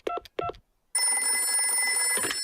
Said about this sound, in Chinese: 我马上打个电话给棕熊医生